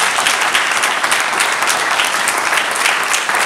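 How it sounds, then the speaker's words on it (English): A church congregation claps and cheers after a pastor's pastoral response, a loud, dense and continuous burst of applause filling the room with no speech over it. "Let's give a big cheer"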